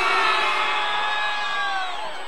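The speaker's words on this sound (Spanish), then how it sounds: "¡El grito fuerte en la tribuna!" A loud, sustained roar of a crowd cheering and shouting in the stands at a live outdoor concert in Jesús María, steady and dense, then easing slightly toward the end.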